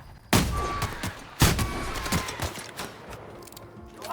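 Shots from a gun in The Outer Worlds crack out as two loud, sharp bursts roughly a second apart, followed by a few softer reports and a lingering rumbling tail.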